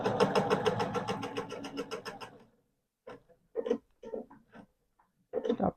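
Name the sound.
sewing machine stitching a quilted tool caddy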